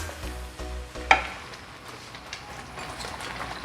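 Tadka tempering poured into a pot of boiling quinoa dal, giving a sharp sizzling burst about a second in that settles into a faint, steady crackle.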